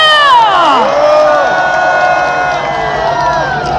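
A crowd at a candlelight protest rally at Gangnam Station cheers loudly for a singer taking the stage, with sustained shouting, high whoops and steady crowd roar throughout.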